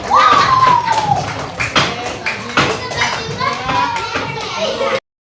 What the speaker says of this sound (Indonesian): Ya, tepuk tangan buat kelompok.